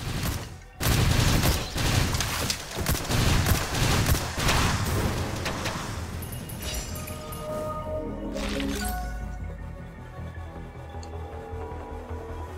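Pellet shots fired in Risk of Rain Returns, a burst of dense, crackling gunfire running for several seconds with heavy low thumps, loud and close, then tapering into game music and effects.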